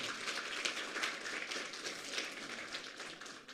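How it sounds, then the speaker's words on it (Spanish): Applause from a church congregation at an Aymara Sunday service, a steady wash of many hands clapping at moderate distance with no talk over it. "Vamos a dar una vez más, por favor, fuertes aplausos."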